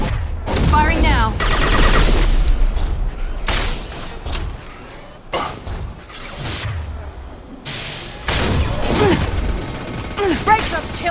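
Gunfire from the video game Mass Effect: Legendary Edition, with loud repeated bursts and single shots filling the stretch, broken by short pauses and mixed with game effects and a voice speaking.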